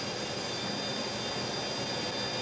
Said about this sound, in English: We'll get airborne again.